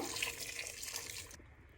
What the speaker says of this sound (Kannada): ತರಕಾರಿ ಮತ್ತು ಬೇಳೆ ಬೇಯೋಷ್ಟು ನೀರು ಹಾಕೋಬೇಕು.